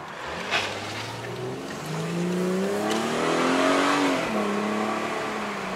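BMW 440i Cabrio six-cylinder engine while driving, its tone rising and falling through gear changes, moderately loud and steady with open-top wind noise.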